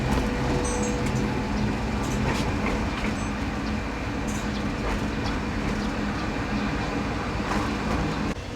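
A CRRC HXN5B diesel-electric shunting locomotive runs, giving a steady heavy rumble and hum from nearby with faint mechanical rattles throughout and no voices.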